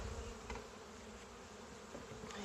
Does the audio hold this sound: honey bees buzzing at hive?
yes